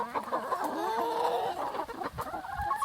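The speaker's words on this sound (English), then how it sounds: "Silly chickens." A backyard flock of chickens clucks and murmurs nearby, excited by dried mealworms, with overlapping warbling calls and short clucks in an uneven rhythm and no talking.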